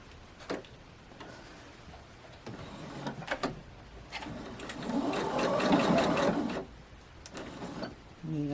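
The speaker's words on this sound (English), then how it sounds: "So we'll meet you at the sewing machine" A sewing machine stitching quilt pieces, with short whirring bursts and then a longer steady run of rapid needle chatter, close and moderately loud amid quiet handling sounds.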